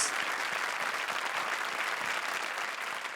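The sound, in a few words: audience applause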